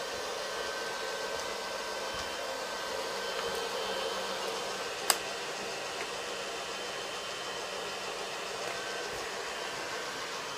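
A blow dryer runs continuously with a steady, even whooshing hum and a single brief click partway through; no voices.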